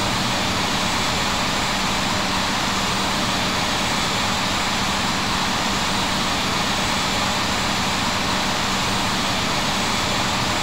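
A FedEx Boeing 777-200F taxiing in the Infinite Flight game, its jet engines giving a steady broadband roar with a faint hum. The roar holds at constant loudness throughout, with no speech.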